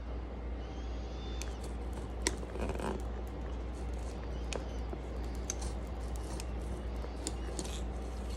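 A protective covering is peeled off a soldered, patinaed and waxed stained glass terrarium, giving sparse, crisp crackles and ticks over a low steady hum, close by and without talking.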